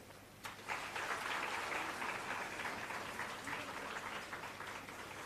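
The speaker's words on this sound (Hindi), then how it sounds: "उनके स्वागत में मेघ ताली से अभिनंदन" A hall audience claps steadily for guests seated on stage at a live government event for unemployment allowance beneficiaries, with dense, even applause lasting about five seconds, heard from some distance and fairly faint.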